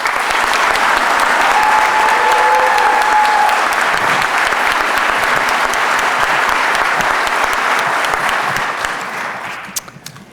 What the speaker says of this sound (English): How about another round of applause for all of our cadets?